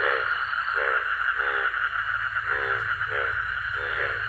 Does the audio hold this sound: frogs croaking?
yes